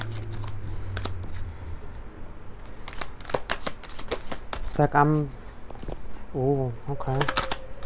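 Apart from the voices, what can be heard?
shuffling a deck of cards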